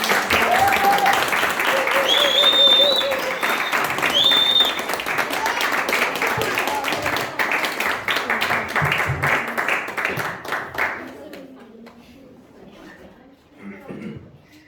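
Applause from a church congregation at a Sunday afternoon service, a dense steady clapping that holds for about ten seconds, then fades away and thins into quieter room sound.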